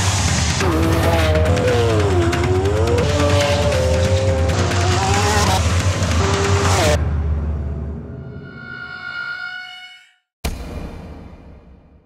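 A 2012 Lamborghini Aventador at speed on the Nardo test circuit makes a loud, close, sustained engine roar that rises and falls through gear changes, then fades away, followed by a brief sharp burst.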